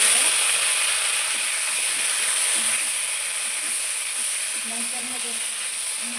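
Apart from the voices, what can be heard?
eggplant pieces frying in oil in a pan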